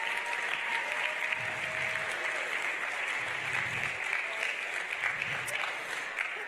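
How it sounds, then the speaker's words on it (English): Steady applause from an indoor crowd at a university athletics awards ceremony honoring staff, continuous and even in volume with faint voices mixed in. "So give them a round of applause."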